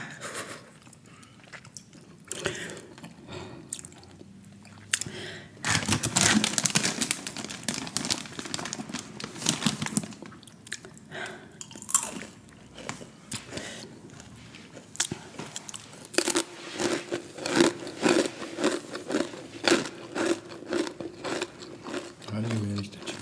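Someone chews and crunches food loudly and close up, with irregular bursts of crisp biting and crinkling, amid quieter gaps and some talking.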